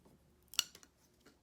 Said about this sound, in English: I'll use my scissors for the cutting of the straw.